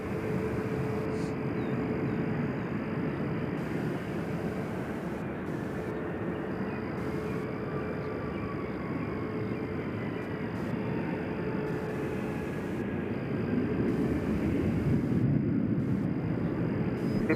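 A steady, distant roar of an Allegiant airliner departing Nashville International Airport hangs in the air throughout as a broad, even rumble with a faint rising whine, heard alone without talk.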